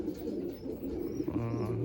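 Pigeons in a loft of Madrasi and Andhra breed birds coo steadily and close by, a low continuous murmur of several birds with no talk over it.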